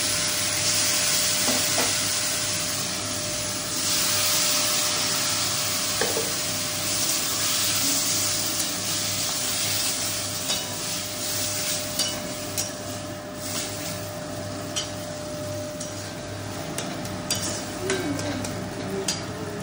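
Boiled flat beans go into a pan of oil with garlic and green chilli and are stirred, giving a steady close frying hiss broken by occasional scraping clicks of the spoon.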